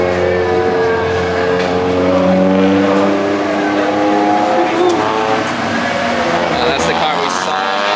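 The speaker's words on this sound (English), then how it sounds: "That's the car we saw on the track night." A car drives past at a track event, its engine droning and shifting pitch steadily for several seconds, loud and close with people talking over it.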